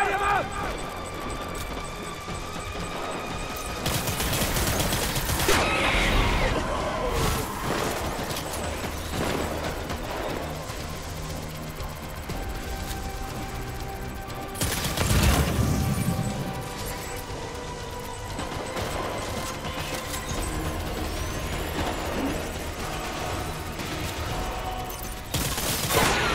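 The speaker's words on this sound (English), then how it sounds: "Open fire!" Sustained gunfire in the video game Death Stranding, dense rattling bursts of automatic weapons throughout with heavier volleys near the start and middle, loud and continuous under shouted voices.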